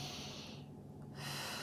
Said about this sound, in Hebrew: אקח נשימה עמוקה